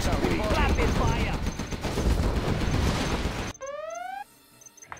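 Rapid gunfire from units in a Command & Conquer: Generals battle, China against USA, rattles continuously for over three seconds, then cuts off as a short rising electronic game tone follows.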